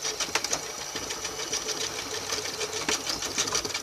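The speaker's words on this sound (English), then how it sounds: "I can just use my sewing machine and have it all together right away." A sewing machine runs steadily, its needle chattering in a fast mechanical rhythm, close and moderately loud with no voices.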